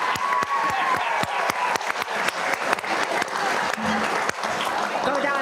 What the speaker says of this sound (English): let us give you an applause